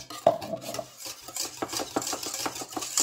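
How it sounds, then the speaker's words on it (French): Fekkas dough being stirred in a bowl with orange blossom water, oil, a pinch of salt and other ingredients, giving repeated close scraping and rubbing strokes in an uneven rhythm with light clinks of utensil on bowl. "je mélange bien, je rajoute un pincé de sel, je mélange bien"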